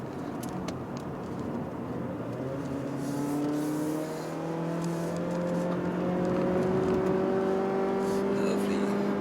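A 1.5 litre Mazda 3 hatchback's engine revs from inside the cabin while climbing a mountain road, rising whining tones swelling and steadying over a constant road roar, with a voice speaking at times.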